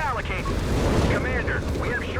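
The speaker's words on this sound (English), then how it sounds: "Some rocket artillery there." Rocket artillery fire in the video game Company of Heroes 3, a dense, continuous rumble of booms and blasts with whistling streaks, loud and sustained, with a commentator's voice running over it.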